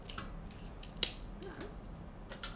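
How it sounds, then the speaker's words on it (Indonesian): Kitchen scissors snip through a king crab shell at a meal table, a few faint sharp clicks with one crisp cut standing out, close by over low room noise. "Kulit ni tak keras kalau nak gunting."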